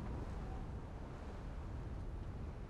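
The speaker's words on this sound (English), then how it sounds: "It's very windy." Steady, roaring wind buffets the microphone inside an old, dilapidated cow barn in Muhlenberg County, Kentucky, a broad rumbling rush with no pauses, loud and close throughout.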